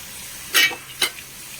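Chicken parts dropped into tomato gravy in a hot pan for a jackfruit dish, giving two short bright sizzling bursts close by, separated by a brief pause, with quiet in between.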